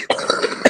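A person coughs and clears their throat in a podcast recording, a couple of short, close, abrupt bursts.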